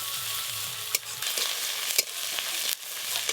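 Chopped onions frying lightly in mustard oil with whole garlic, a close steady sizzle with a few quick spatter pops and stirring scrapes, no speech.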